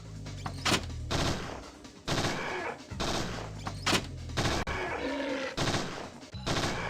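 Gunfire crackles in Parasite Eve II on PS1, rapid bursts of shots in repeated clusters with short gaps between, loud and punchy in the game mix.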